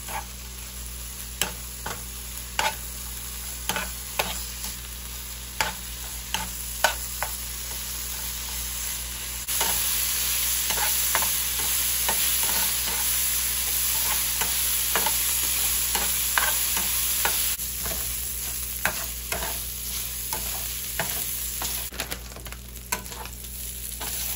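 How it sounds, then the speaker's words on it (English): Bacon frying in a pan until crispy, a steady close sizzle broken by regular sharp pops and scrapes of stirring, no talk. "So I'm gonna go ahead and cook the bacon all the way, and make sure this is done and crispy"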